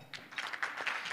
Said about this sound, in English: Let's give a round of applause to Mr. Charlene Chikomo as he's going to mod